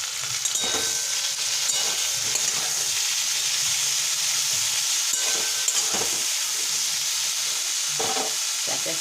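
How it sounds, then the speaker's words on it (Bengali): Okra fries with salt and turmeric in a pan, a constant loud sizzle and hiss with intermittent stirring knocks and scrapes, close by and without talk. "নুন হলুদ দিয়ে ঢ্যাঁড়সগুলোকে একটু ভালো করে ভেজে"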